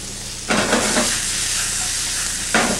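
Parboiled regular potatoes drop into a hot pan with a loud sizzle and frying hiss that holds steady, with a fresh burst of sizzling as more go in near the end.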